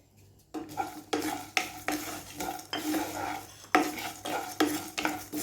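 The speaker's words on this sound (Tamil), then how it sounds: "ஒரு 2 நிமிஷம் மீடியம் ஃப்ளேம்லேயே வச்சு வறுத்து எடுத்துக்குவோம்" Coriander and poppy seeds dry roasting in a pan over medium flame, stirred with a spoon in a rhythmic series of loud scraping strokes roughly every half second, with light rattling of the seeds between strokes.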